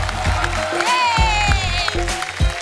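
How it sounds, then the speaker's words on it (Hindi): Studio audience applause on a Hindi comedy talk show mixes with loud rhythmic music, a thumping beat and a melodic line, keeping the clapping partly masked. "जोरदार तालियां अक्षय पाजी और रकुल के लिए"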